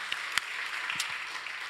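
A church congregation applauding, with soft, even clapping that sounds distant and faint throughout a short stretch.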